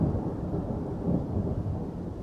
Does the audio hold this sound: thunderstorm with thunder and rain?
yes